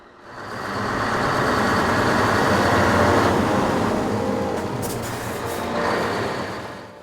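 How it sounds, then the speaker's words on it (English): A truck carrying radioactive material pulls away toward a waste processing plant, its engine swelling to a loud, steady rumble, with air-brake hiss and a brief high whine near the end. "the truck departs for the radioactive waste processing plant"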